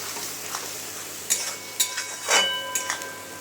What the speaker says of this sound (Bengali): মশলাটা পেঁয়াজ ভাজার সাথে মাখাচ্ছি।